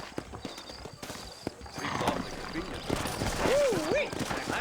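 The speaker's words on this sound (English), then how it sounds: "You ain't gonna find sturdier horses than these in all of New Austin." Horses in the Red Dead Redemption video game set in New Austin, with rhythmic hooves clip-clopping and a loud whinny rising near the end, under speech and busy game ambience.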